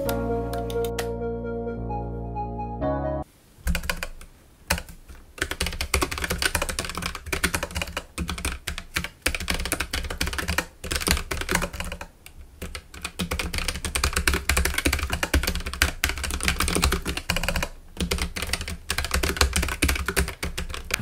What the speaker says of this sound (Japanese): 次にキークロン K1 の打鍵音についてチェックしていきたいというふうに思います